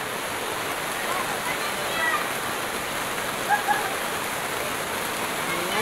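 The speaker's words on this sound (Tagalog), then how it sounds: "Grabe ulan dito, oh. Ang lakas." Heavy rain pours down in a steady, dense hiss, with a few brief spatters and knocks poking through the continuous wash of water.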